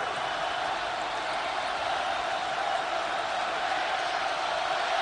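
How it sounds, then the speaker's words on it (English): Basketball crowd in a College Park arena during Maryland versus Purdue, a loud, dense, sustained roar of cheering that stays even and unbroken from start to finish. "Crowd is on fire here in College Park."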